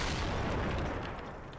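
Mortar fire rumbles in a war video game, a dull, dense boom that fills the short stretch and slowly fades, heard alone without talk.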